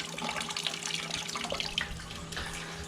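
Water runs steadily with a hollow splashing trickle, close by, draining through a shower pan drain in a hotshot truck.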